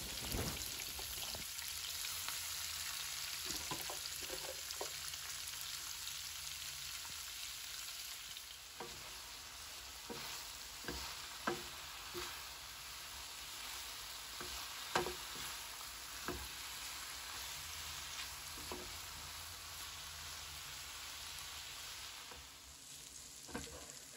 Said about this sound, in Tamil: இதில் நான் chilli powder and turmeric powder சால்ட்டை mix பண்ணி ஆயில ஃப்ரை பண்ணி எடுக்க போகிறேன்.